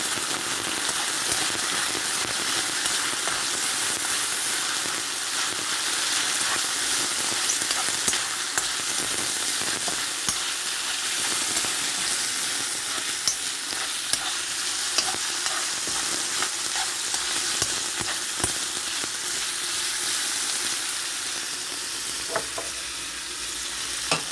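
Continuous loud sizzling and crackling of king prawns frying in a hot wok, with occasional stirring clatter, steady throughout with no voices.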